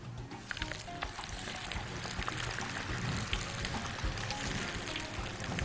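Bread dough sizzling and frying in hot oil, a steady dense crackle with scattered pops and bubbling, close and continuous throughout.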